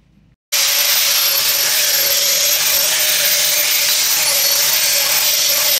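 A large splitting axe head being ground on a 60 grit wheel: a loud, steady, harsh grinding hiss that starts abruptly after a brief quiet moment and runs continuously without a break.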